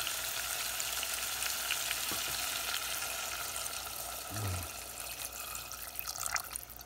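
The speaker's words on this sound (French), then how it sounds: "je vais mouiller avec de l'eau pour couvrir." Water goes into a hot pan of pork, and the meat keeps sizzling and frying steadily. A soft splash and pouring sound rises briefly midway, and the low bubbling crackle continues alone at a moderate, close level.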